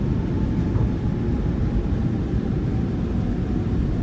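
Thrust reversers on a Boeing 737 roar during the landing rollout at Oslo in Microsoft Flight Simulator 2020, a steady, loud broadband rumble that holds for the whole stretch with no talk over it.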